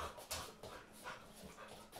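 A small dog pants in quick, uneven breaths with soft whimpers mixed in, close by and fairly quiet, with no talking over it.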